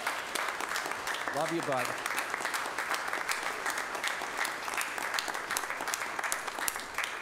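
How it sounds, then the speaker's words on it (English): A congregation in church gives a sustained round of applause, dense steady clapping filling the room for several seconds, with a brief spoken voice near the start. "Let's give him a round of applause, huh?"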